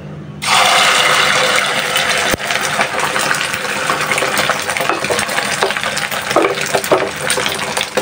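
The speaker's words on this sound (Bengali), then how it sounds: "আর এখানে ডিমও ভেজে নিতেছি" Eggs frying in a pan during home cooking alongside khichuri, a loud, steady broadband sizzle that starts abruptly and runs continuously, with a brief dip midway and faint clatter underneath.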